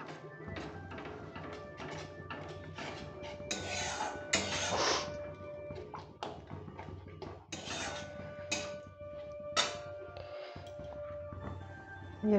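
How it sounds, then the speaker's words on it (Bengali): A spoon stirring a mixture of raisins, poppy seeds and melon seeds with water in a pot over medium heat makes soft, repeated taps and scrapes, with a few louder clinks against the metal and no talking. "এটা অনবরত নাড়তে হবে।"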